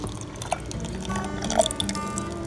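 Lemon juice poured out for a Caesar salad dressing with egg yolks and garlic, a short wet trickle with drips and splashes at close range, loud and steady for a couple of seconds with no one talking.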